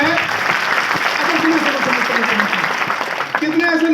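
Audience applause at a motivational talk, a continuous patter of many hands clapping at moderate loudness, with a voice faintly audible beneath it.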